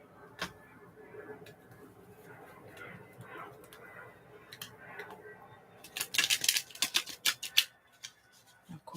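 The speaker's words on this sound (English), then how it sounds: "wait there patiently while I shuffle the cards" A large tarot deck is shuffled in an ASMR setting, soft continuous riffling and sliding of cards building into a cluster of sharp, close snaps and flicks near the end, with no talking.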